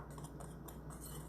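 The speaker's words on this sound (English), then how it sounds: "We're just going to give that a good whisk just to make sure it's all incorporated well." Flour, baking soda and spices whisked together in a bowl: a quiet, steady metallic scraping and light ticking of the whisk against the bowl, with no voices.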